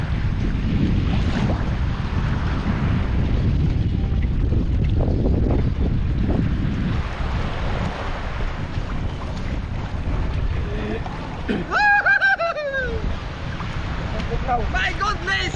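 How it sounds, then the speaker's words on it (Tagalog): A small boat crosses the open sea with strong wind buffeting the microphone, a low hull and engine rumble, and water rushing past. Voices and shouts rise briefly near the end. "Sakyan namin yung bangka ni Ariel mga bay."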